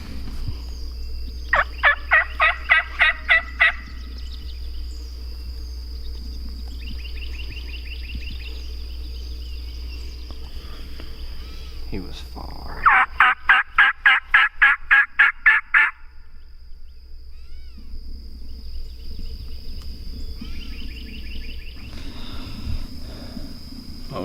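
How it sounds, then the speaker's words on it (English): A wild Osceola turkey in Florida hunting country gobbles twice, each a rapid rattling burst of about a dozen pulses, heard at a moderate distance over a steady low hum. "We haven't heard him gobble in probably 15 minutes"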